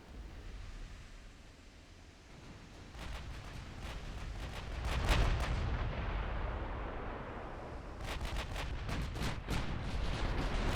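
Naval gunfire from warship guns in Ultimate Admiral Dreadnoughts during a North Sea battle, with heavy booming salvos repeating and rolling over a constant sea rumble, loud and close with several rapid clustered blasts.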